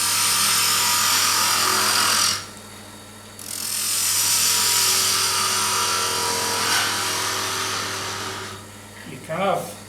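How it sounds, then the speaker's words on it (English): A skew chisel works wood spinning on a lathe, giving a loud, hissing scrape that cuts out briefly and returns, steady and close, ending in a short squeal. "I'm using a skew chisel to do this"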